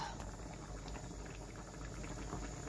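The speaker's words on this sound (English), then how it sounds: "So this has now been bubbling for about 10 minutes." A pot of tamarind date chutney boils steadily, a dense continuous bubbling and popping at moderate volume with no voices.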